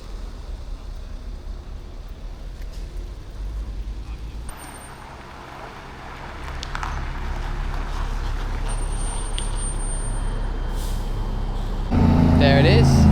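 A coach bus pulls into a gas station at night, its engine drone rising steadily as it approaches, then a louder rush near the end, with traffic noise and a person speaking nearby.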